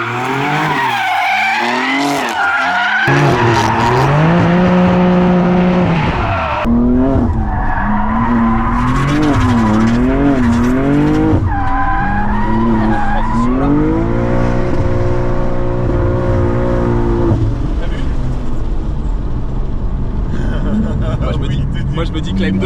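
A BMW M2 drifting on a race circuit during a French drift championship round, its tires screaming in long, wavering squeals over a roaring, revving engine that rises and falls as the car slides, loud and close throughout.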